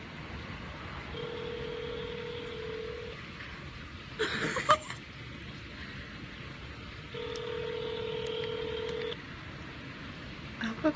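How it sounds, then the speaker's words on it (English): Telephone keypad tones dialing a number on a call, two steady tone bursts separated by a short clatter of handling noise, fairly close and alone without talk. "I hope I called the right number."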